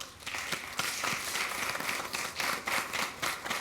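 Audience applause for a district team on a televised quiz show, a moderate crowd clapping in uneven bursts, fairly soft and somewhat distant with no talk over it.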